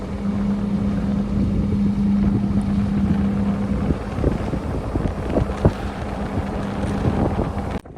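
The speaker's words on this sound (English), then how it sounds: "We watch the tugboat's propeller churn the water, twisting it into swirling whirlpools, and as its engine roars" A tugboat in the port of Antwerp runs with a steady engine roar while its propeller churns the water. The sound is close, with wind buffeting the microphone and a few knocks, and no voices.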